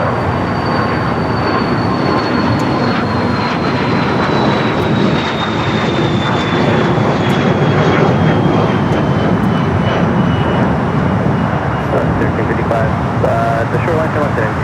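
An American Airlines Dreamliner jet roars on takeoff at Los Angeles International Airport, a loud, continuous engine rumble with a slowly falling whine that carries through the whole stretch and steadily masks faint background voices.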